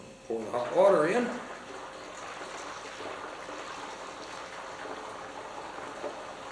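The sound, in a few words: hot water being poured into a tank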